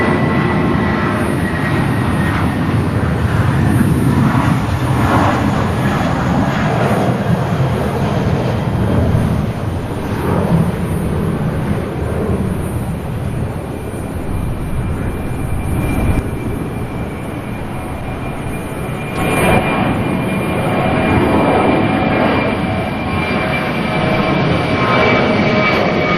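A Jetstar jet departing Sydney Airport roars loudly and continuously, a broad rumbling engine noise that swells and surges over nearly half a minute.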